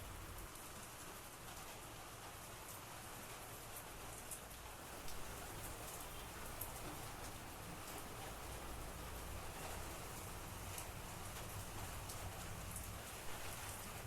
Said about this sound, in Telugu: బాగుంది వర్షం, చాలా బాగా నచ్చింది